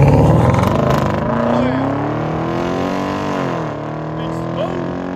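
Hyundai Genesis or Equus V8 with a Flow FX muffler and rear muffler delete, a loud, steady exhaust drone rising and falling as the car pulls away, with voices talking over it.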